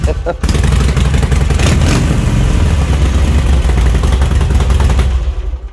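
A 2007 Harley-Davidson XL 1200C Sportster engine runs loud and close, a dense steady rumble with clattering mechanical texture that holds for about five seconds before cutting off.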